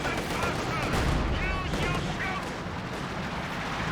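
A T-34/85 tank fires on a Panzer in the Company of Heroes 2 video game, with loud, dense battle noise of booming shots and gunfire rolling continuously through the whole stretch.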